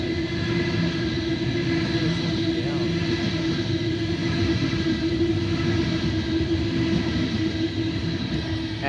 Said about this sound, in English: Here we have B set approaching platform number 1.